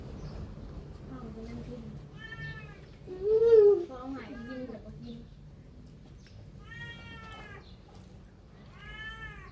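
Domestic cat meowing in a Thai household, several drawn-out meows spaced across the clip, one louder mid-clip, heard near and clear over faint background murmur and talk.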